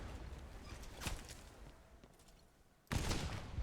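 Sniper shots ring out in the pirate ship game Blazing Sails: a sharp crack, a quieter pause, then another loud burst of gunfire near the end, all fairly faint overall.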